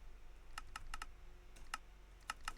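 A computer mouse clicks during a video game: about eight sharp, close clicks come in quick pairs and small clusters over a faint steady hum, with no voices.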